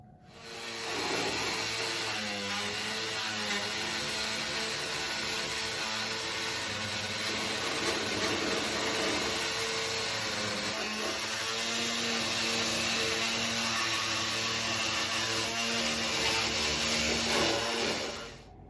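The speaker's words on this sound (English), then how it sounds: "I cut on both sides the tabbing of the main bulkhead using multi-tool with different blades" Oscillating multi-tool cutting through the fibreglass tabbing of a sailboat's main bulkhead, a steady buzzing whine with shifting tonal bands running continuously and close up, no talking.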